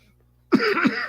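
A single harsh cough bursts out after a half second of near silence, followed by a few rougher hacking coughs close to the listener.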